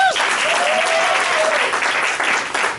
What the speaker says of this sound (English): clap it up real quick